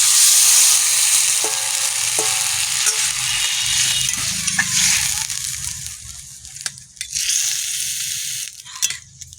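Water pours into a hot pan of garlic for a crab and Malabar spinach curry, raising a loud sustained sizzle and hiss with sloshing, then fading into scattered clatters and bursts.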